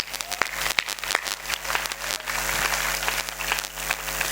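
Scattered audience clapping at a stage comedy show during the Shahpura festival, building from sparse claps into fuller applause over a low steady background hum, moderately distant.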